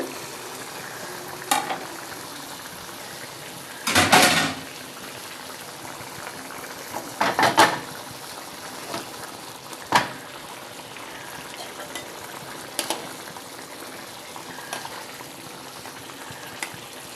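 Batasio fish curry simmers in a pan, a low steady bubbling hiss with a few brief clattering bursts of utensils against the pan; no one speaks.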